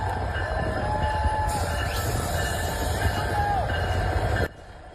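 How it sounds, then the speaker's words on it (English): The CPKC holiday train rolls into Sudbury with a steady rumble and a long metallic wheel squeal, sounding close and continuous before cutting off abruptly near the end. "the CPKC holiday train rolled into Sudbury last night"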